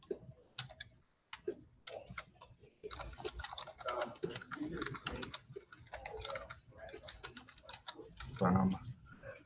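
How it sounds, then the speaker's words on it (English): Rapid typing clatters on a computer keyboard in quick bursts of close, light clicks, broken by short pauses, with someone speaking quietly over it. "not doing good typing, trying to be fast"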